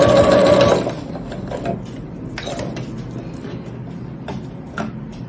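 A sewing machine runs steadily as it stitches along the edge of a trellis mesh bag, a loud whirring burst at first that settles into quieter continuous mechanical running with light clicks.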